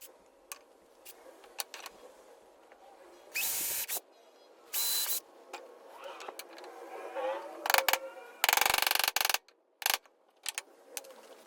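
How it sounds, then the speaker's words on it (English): A power drill pre-drills holes in a wooden cross in several short, loud, close bursts separated by quiet pauses and small handling clicks. "now to pre-drill out my holes to add my hardware"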